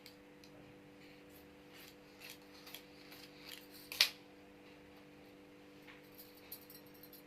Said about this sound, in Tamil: இது கோடு போட்டு நம்ம நெக்கு கட் பண்ணுற மாதிரி அப்படியே கட் பண்ணிடலாம்